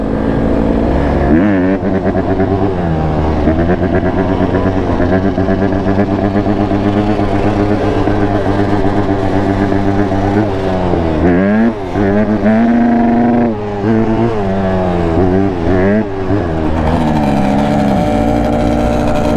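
A motorcycle engine revs hard and holds against its rev limiter, a loud, sustained, close buzzing roar with brief stutters and dips in pitch near the middle, with no talking over it.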